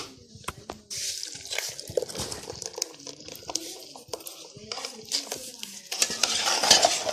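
Chana chaat mixed with a spoon in a metal bowl, busy close clinks and scrapes of utensil on vessel with some wet, squelchy stirring, fairly loud throughout.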